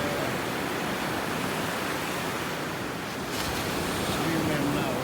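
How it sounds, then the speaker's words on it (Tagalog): Big ocean waves break and roll onto a beach where a few people are surfing, a continuous loud wash of surf with a swell of crashing near the end. "Big waves, lots of waves."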